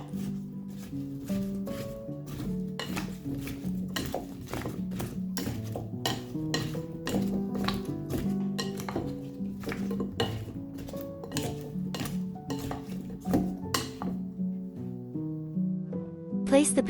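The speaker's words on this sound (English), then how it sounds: "Add some olive oil or vegetable oil. Mix the potatoes well." Potatoes being mixed with olive oil in a bowl, steady close clinks and scrapes of a utensil against the bowl, with a voice talking over the mixing throughout.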